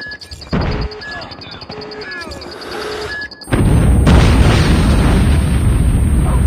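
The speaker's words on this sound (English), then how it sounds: "Warning, friendly nuke has been launched" A nuke goes off in Call of Duty Mobile: game beeps and chatter lead into a sudden huge blast that swells into a long, loud roaring rumble.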